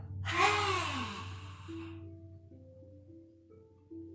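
A forceful exhale through a wide-open mouth with the tongue stuck out during a gentle healing yoga session, one loud breathy rush that fades over about a second into quiet, with soft background music.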